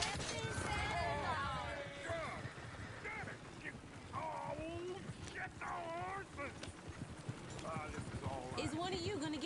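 Horse hooves clip-clop on a trail in Red Dead Redemption 2, a continuous uneven trotting patter under game ambience, while characters talk loudly over it for most of the stretch.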